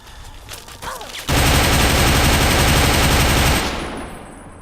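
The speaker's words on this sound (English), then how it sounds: "I'm shooting the fence, aren't I?" Sustained rapid automatic gunfire from the video game Fallout 3 aimed at a fence, a loud dense burst of rattling shots lasting a few seconds after some quieter scuffling, then tailing off.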